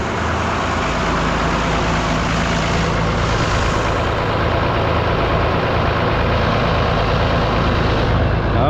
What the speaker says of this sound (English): you'll just have to hear me try to listen to me over the sound of an engine, a perfectly fine running engine.